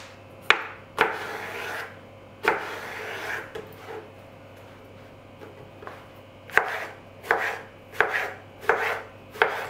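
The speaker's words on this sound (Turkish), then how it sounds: "Ve küp küp olacak şekilde doğruyorum." Eggplant being cut into cubes with a knife on a board, a run of crisp close chops in uneven bursts, some quick doubled strokes, separated by short pauses and no voices.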